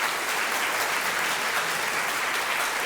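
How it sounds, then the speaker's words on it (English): An audience at a PechaKucha design talk evening in Ahmedabad applauds the speakers, a dense, even wash of clapping from many hands, moderately loud and continuous throughout. "give a huge round of applause to all the speakers"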